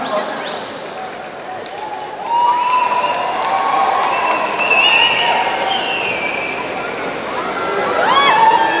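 Crowd applause and cheering for actor Vijay Sethupathi at a fan gathering, a steady mass of clapping and shouts that swells around mid-clip and again near the end, with voices mixed through.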